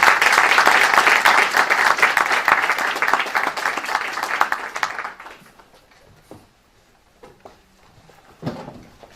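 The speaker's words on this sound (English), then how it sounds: "Let's give them a round of applause" Audience applause at an education conference panel, loud and dense for about five seconds, then thinning into scattered claps and fading to near quiet, with a few knocks and bumps afterward.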